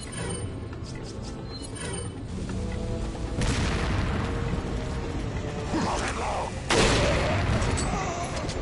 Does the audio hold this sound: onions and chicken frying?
no